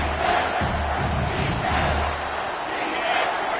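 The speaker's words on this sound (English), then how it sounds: "This crowd rising up" Crowd roaring in the College Football 25 video game during a Washington versus Georgia matchup, a broad sustained swell of cheering with rising and falling surges and a low rumble.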